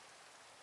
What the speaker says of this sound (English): Ooh, rain.